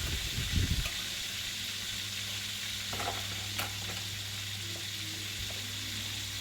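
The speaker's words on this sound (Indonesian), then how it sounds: "sekalian goreng ikannya biar cepat selesai ya teman-teman" Tongkol fish frying in oil in a pan, a low steady sizzle with a short louder clatter at the start and a few faint clicks, heard without speech.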